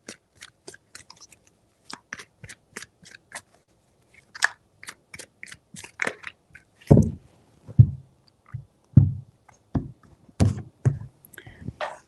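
Tarot cards being shuffled by hand, three shuffles, heard as a run of dry riffling taps and crisp snaps, close and fairly loud, with heavier thumps in the second half as the deck is squared.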